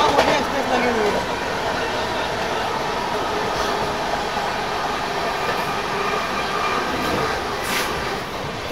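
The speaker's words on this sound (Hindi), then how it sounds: "बिहार संपर्क क्रांति एक्सप्रेस नई दिल्ली से गया तक जाने वाली महाबोधि एक्सप्रेस को अलीगढ़ जंक्शन में पीछे छोड़ चुकी है" Inside the Bihar Sampark Kranti Express, the train runs on with a constant loud rumble and rattle of the carriage, with faint clicks and squeals over the rail noise and voices talking in the background.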